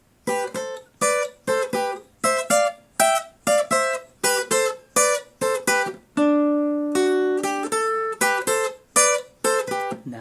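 Electric guitar plays a riff, with crisp repeated picked note clusters in a steady rhythm and a sustained fill ringing in the middle before the riff returns, played alone and up close.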